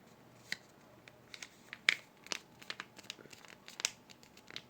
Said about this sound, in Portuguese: Ainda está grande, então eu vou dobrar mais uma vez.